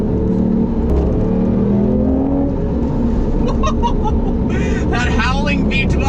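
A 2007 Lamborghini Reventon V12 pulls hard as it accelerates, with a rising engine howl and rushing road noise heard from inside the car, loud and continuous, and a voice breaking in near the end.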